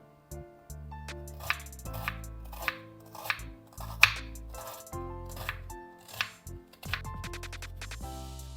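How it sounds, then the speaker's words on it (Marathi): Onion being finely chopped with a knife on a board for a raw mango side dish, a string of uneven crisp knife strikes set over steady background music. "त्याच मध्ये आपण कांदा पण बारीक चिरून घेऊया"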